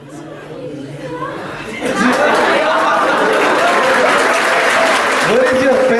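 Applause from a school audience for three girls who placed first, quiet chatter and light laughter at the start, then a steady, full round of clapping that holds for several seconds.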